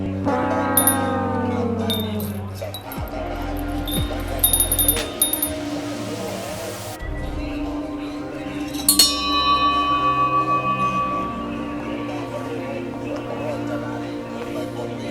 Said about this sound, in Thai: ให้เราเขย่าระฆังหนึ่งทีแล้วก็ไปห้อย